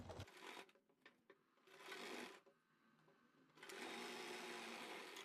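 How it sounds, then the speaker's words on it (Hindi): A sewing machine stitching a seam on umbrella-style plazo pants runs in bursts, with short clicking starts and stops, then a steady, close whirring run of stitches. "तो ये हमने अपनी गिदरी की सिलाई लगा ली है।"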